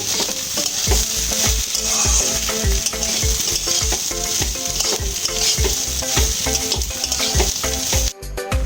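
Rice for pulao is stirred with food colour in a hot pan, giving a steady sizzle and repeated rhythmic scraping strokes throughout, close and loud, ending with a brief clatter.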